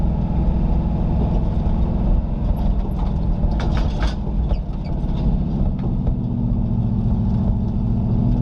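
Off-road vehicle engine droning steadily while driving through soft sand at Sand Hollow, loud and continuous with some rattling and clatter partway through.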